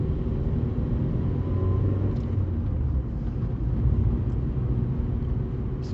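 A Vauxhall Corsa E engine pulls steadily in second gear through a corner, giving a continuous low rumbling drone with road noise that holds even and fairly loud throughout.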